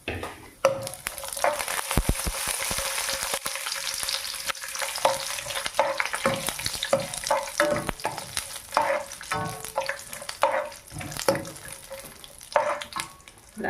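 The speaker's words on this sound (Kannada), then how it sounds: "ದ್ರಾಕ್ಷಿ ಗೋಡಂಬಿನ ಸ್ವಲ್ಪ ಫ್ರೈ ಮಾಡ್ಕೋಬೇಕು." Raisins and cashews fry in hot ghee in a pan, a close crackling sizzle with irregular stirring scrapes and clinks throughout, no voices.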